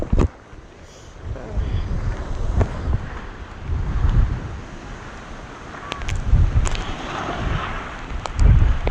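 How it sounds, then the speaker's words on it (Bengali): Strong gusty wind during Cyclone Remal near the Matla river at Canning buffets the microphone in rolling low rumbles that swell and fade in waves over a steady outdoor roar. "মাতলার ভয়াবহ অবস্থা এবং প্রচণ্ড একটা ঝোড়ো হাওয়া"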